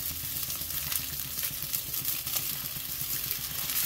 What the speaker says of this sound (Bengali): এখন সুন্দরভাবে নেড়ে সব দিকে ভালোভাবে মিডিয়াম জালে মিশিয়ে দেওয়া হচ্ছে